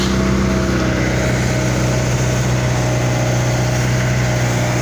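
A boat engine drones loud and steady as the vessel sets off for Parola Island, a continuous low rumble with an even mechanical pulse and no voices.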